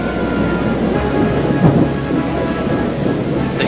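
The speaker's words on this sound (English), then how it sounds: "That night, a fierce summer storm came." Heavy summer thunderstorm with steady loud rain pouring down and low rolling thunder rumbling through the middle, a dense continuous wash of sound.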